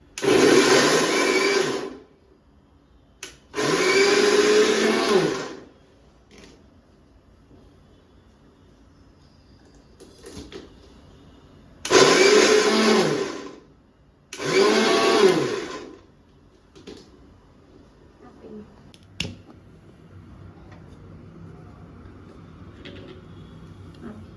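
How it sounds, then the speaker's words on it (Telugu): Mixer grinder churning a thick grated coconut mixture with no water added, loud close bursts of whirring motor in four separate runs of about two seconds each, separated by quiet pauses. "వీటన్నింటిని ఇప్పుడు మిక్సీకి వేసుకున్నాం దీంట్లో వాటర్ ఇవన్నీ ఏం పొయ్యొద్దు"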